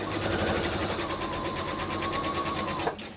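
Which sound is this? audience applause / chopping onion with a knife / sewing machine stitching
sewing machine stitching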